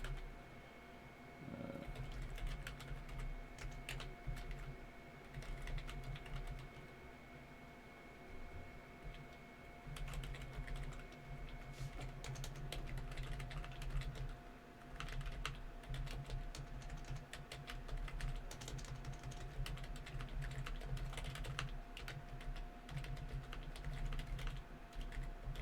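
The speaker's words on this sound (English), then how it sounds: "I hate typing URLs." Keys clatter on a computer keyboard as a URL is typed, a steady stream of close, quick taps with brief pauses over a low background hum.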